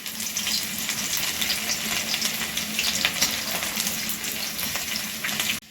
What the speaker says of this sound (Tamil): எண்ணெய் சூடாயிடுச்சு. இதை நான் வந்து பூண்டு சேர்த்துக்கிறேன்.